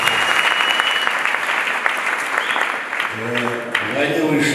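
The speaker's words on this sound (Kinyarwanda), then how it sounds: "Imana tuyikomere amashyi" Congregation clapping during a church service, a dense burst of applause that carries on steadily and thins toward the end as a voice starts speaking over it.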